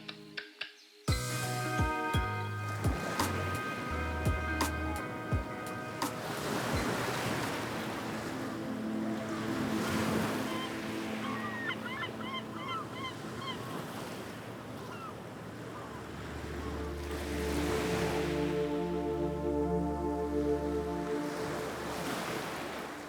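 Ocean waves break and wash continuously along Bamburgh beach, a steady surging roar with rising and falling swells and gusts of wind buffeting the microphone throughout.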